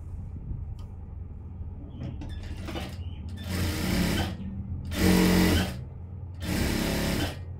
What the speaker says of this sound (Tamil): இப்போ வந்து நம்ம லைனிங்கில் ஓரமாக தையல் போட்டுருவோம்